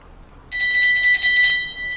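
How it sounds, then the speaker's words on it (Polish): At an indoor speed skating championship 1500 m race, a bell rings rapidly before the final lap, a bright metallic trill pulsing for about a second over a quiet arena background. "Za chwilę dzwonek"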